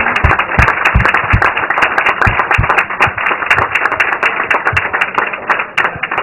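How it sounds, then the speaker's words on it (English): A curling crowd in a warm room claps loudly and steadily for several seconds after a game-winning shot in an extra end, many hands close together with no voices. "a very appreciative crowd in the warm room"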